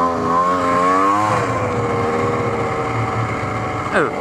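Snowmobile engine on a trail ride, throttle pumped so the whine rises and falls in pitch, loud and close, with a short blip near the end.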